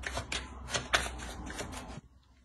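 A deck of Lenormand oracle cards is shuffled up close for a reading, making a run of quick, crisp riffling bursts that stop abruptly and leave near silence.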